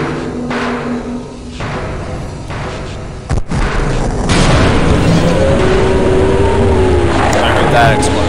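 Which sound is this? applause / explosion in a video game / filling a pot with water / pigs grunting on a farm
explosion in a video game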